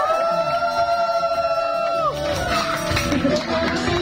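Partway through, a crowd at a child's birthday party with a Jollibee mascot breaks into cheering and clapping, after a steady stretch of party music.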